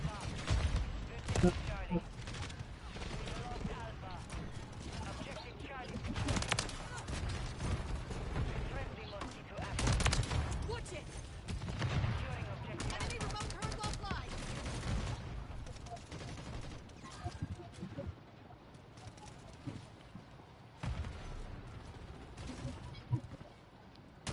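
Rapid, nearly continuous gunfire from a Call of Duty multiplayer match on the Shipment map, with dense overlapping bursts and single shots clattering throughout the clip, loud and close.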